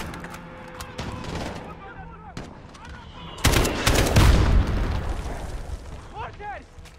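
Mortar fire in Call of Duty: Modern Warfare: deep rumbling blasts and crackling gunfire rising into a loud, sustained barrage midway, with shouted voices and radio chatter throughout.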